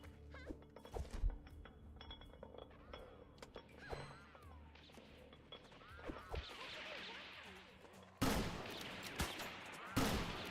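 Bursts of video game gunfire with sharp sniper shots, loud impacts crashing in around the middle and two heavy blasts near the end, with a faint voice now and then.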